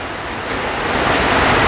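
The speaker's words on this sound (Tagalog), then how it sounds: "biglang umulan na, baka maingayan kayo" Sudden rain falls as a steady broadband hiss that swells slightly after the first half second and then holds loud and even, with no voices over it.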